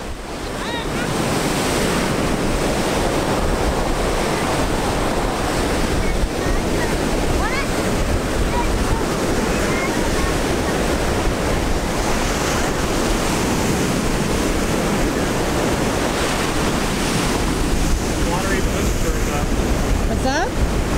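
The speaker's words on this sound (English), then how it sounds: "We enjoyed the sand, the surf, the wind." Steady roar of rough ocean surf on North Carolina's Crystal Coast with gusting wind buffeting the microphone, continuous and loud throughout, with no pauses.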